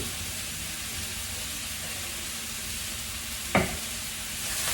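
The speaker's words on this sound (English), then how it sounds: "let's check on our sausage and our onions" Chicken sausage and onions sizzle steadily in a hot pan for a quiche, a constant broadband hiss with one brief clatter near the end, no talking.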